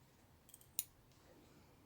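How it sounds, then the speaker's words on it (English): A single crisp snip of scissors cutting a nick into handmade fabric yarn, preceded by a couple of faint clicks of the blades opening, close and quiet in a still room. "get your scissors"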